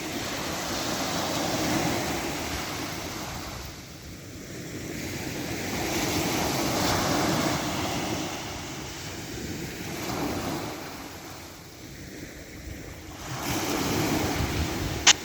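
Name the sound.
sea waves breaking on shore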